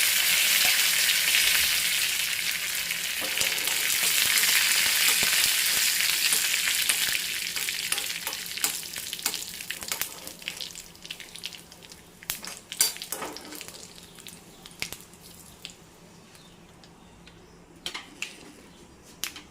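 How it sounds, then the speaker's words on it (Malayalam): Fenugreek seeds, a dried red chili and curry leaves fry in hot oil as a tempering for a Kerala pumpkin curry. A loud, dense sizzle dominates at first, then thins into scattered crackles and pops as it dies down. "ഒരു വറ്റൽ മുളകും കറിവേപ്പിലയും ഇട്ട് കൊടുക്കുന്നുണ്ട്."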